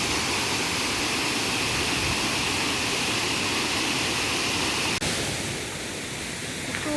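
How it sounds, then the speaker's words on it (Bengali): Largest waterfall in Connecticut roaring with a steady, loud, broadband rush of falling water close by, continuous throughout with no voices. "এই যে ঝর্ণাটা এখান দিয়ে আসছে"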